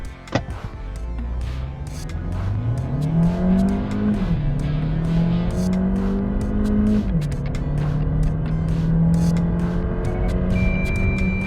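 A 2026 Kia Sportage 1.6T SUV accelerates hard from a standstill, the engine and gearbox revving high with a rising whine that climbs and then holds steady near 7,000 rpm, loud and continuous, with no talking.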